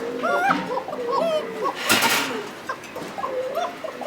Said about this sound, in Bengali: ভিউয়ার্স দেখতে পাচ্ছেন একজোড়া কোকা কবুতর আছে